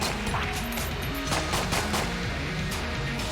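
Rapid gunfire from the Enter the Gungeon twin-stick shooter as a chest is shot before leaving the floor, a dense continuous volley of game shots over busy background music, with no talk.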